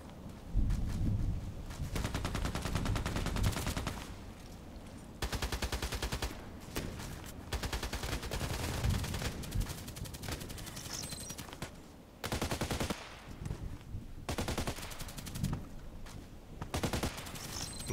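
Sniper video game gunshots crack out repeatedly in dense bursts and sustained volleys, loud and close, broken by brief lulls.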